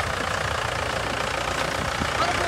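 A Mahindra 575 tractor engine runs at work in a field, a steady close rumble with a knocking throb that holds even throughout.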